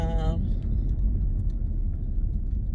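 A car moves slowly through traffic, its low engine and road rumble steady throughout, and a brief burst of voice at the very start.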